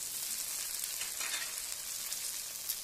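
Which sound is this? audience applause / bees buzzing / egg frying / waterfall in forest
egg frying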